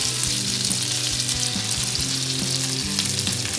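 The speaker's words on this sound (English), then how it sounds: "I'm gonna go ahead and throw the mushrooms in" Morel mushrooms sizzle and fry in a pan with garlic and chives, a steady dense crackle with a few stirring knocks, close and continuous with no talk.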